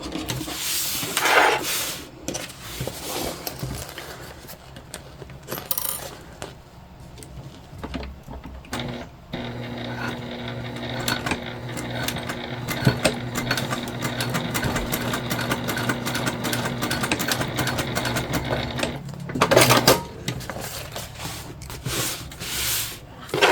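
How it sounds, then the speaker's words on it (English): A sewing machine stitches fabric onto a bag panel, running in a steady, close mechanical whir for about ten seconds, framed by handling rustles and thumps before and after. "that's how we're going to stitch this on"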